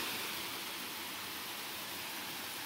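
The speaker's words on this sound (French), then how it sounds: "le son de l'eau qui coule sur les roches est célèbre" River rapids pour over rocks about 30 metres from a waterfall in Colombia. The rushing water makes a steady, fairly faint hiss with no talking.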